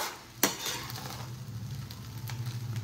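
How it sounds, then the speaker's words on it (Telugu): A spatula stirs vangibath, Karnataka-style brinjal rice, with masala in a pan, with a sharp clink against the metal followed by soft, steady scraping and faint sizzling close by, no voices. "బాగా వైట్గా కనిపించకుండా అంత మసాలా పట్టేలాగా కలుపుకోవాలి"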